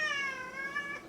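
A single drawn-out cat meow, close and fairly soft, with a rising then falling whine.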